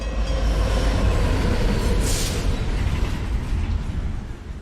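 A train in the video game Alpha Protocol rumbles past at close range, a heavy low roar of rolling cars with a brief bright hiss midway, slowly fading toward the end.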